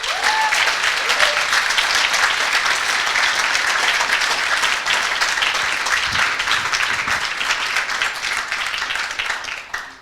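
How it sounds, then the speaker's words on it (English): A large audience breaks into sustained applause at a coding bootcamp demo day in Montreal, dense steady clapping filling the room for about ten seconds before tapering off at the end. "they deserve a huge round of applause right now"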